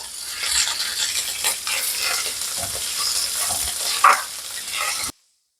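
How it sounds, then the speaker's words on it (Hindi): Chicken pieces for a samosa filling sizzle and crackle in a pan with lightly browned onions while a spoon scrapes and stirs through them, a steady close frying hiss with occasional clacks that stops abruptly. "चिकन जो है ना 1 से 2 मिनट मैंने इसे फ्राई किया"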